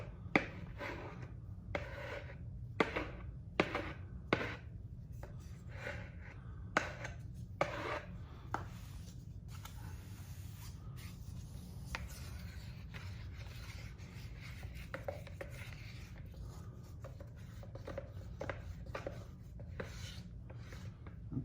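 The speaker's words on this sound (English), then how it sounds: "Make sure you scrape the bottom real good and your sides." Urethane rubber mix being scraped from the bottom and sides of a container, a quiet scratchy rubbing with sharp ticks and scrapes scattered through the first half, then a softer continuous scuffing over a low background hum.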